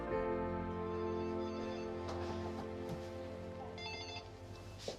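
A telephone rings repeatedly in a restaurant, its bell tones loud and steady with a short pause, alone with no talk over it.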